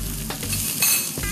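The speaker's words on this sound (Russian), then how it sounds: "Все, обжариваем тесто прям..." Yeast dough sizzles and crackles as it fries in a pan, a loud close hiss with a few stirring scrapes, no talk over it.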